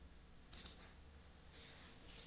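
Two quick, faint computer mouse clicks in close succession, over a soft steady background hiss.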